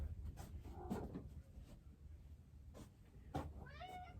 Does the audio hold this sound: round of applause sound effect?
no